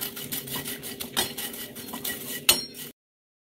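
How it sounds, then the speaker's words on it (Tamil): Popcorn with chilli powder and salt being stirred in a pan, giving a steady run of scraping, rattling clinks with one sharp metallic knock near the end, close and alone. "இப்போ இதை வந்து நம்ம நல்லா கிண்டி விடணும்,"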